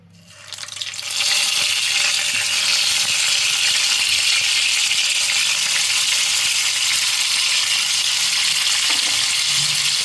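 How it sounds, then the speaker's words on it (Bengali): Minced pointed gourd (potol) frying in oil in a kadai, a loud, steady, close hiss of sizzling that starts abruptly and keeps going without a break. "কড়াতে তেল ঢেলে নিয়েছি আমি পটলের কিমাগুলো আস্তে আস্তে আমি ছেড়ে দেবো"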